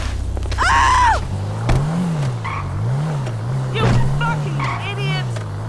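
A stolen SUV drives in GTA 5, its engine humming steadily with rising and falling revs. Game sound effects come and go on top, and speech-like sounds are mixed in.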